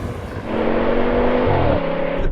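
A V10 BMW M5 and an AMG E55 launch side by side in a drag race, engines roaring loud and close, pitch climbing steadily as they pull away.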